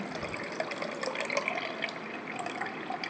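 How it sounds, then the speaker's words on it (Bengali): Soaking water is strained off soaked matar dal, a steady, close-up splashing trickle of pouring liquid lasting a few seconds. "এখানে জলটা ছেঁকে নিচ্ছি আর একটু জল দেবো"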